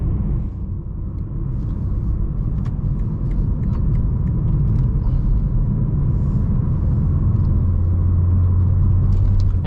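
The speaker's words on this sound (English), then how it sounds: "the real engine noises." Steady low engine rumble from inside a moving BMW M3 Competition with an axle-back exhaust, catted downpipes and single midpipe, constant and droning, with road noise and a deeper exhaust tone building toward the end.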